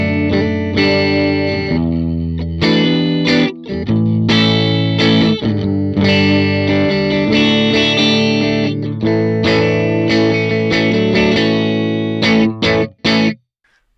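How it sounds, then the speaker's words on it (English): Distorted electric guitar through a Vox AC30 amp model in the Atomic Amplifier, bright, chimey tone, strummed chords and riffs with chorus shimmer, loud and continuous with brief pauses near the end. "Let's have some fun with the Vox AC30 model in the Atomic Amplifier"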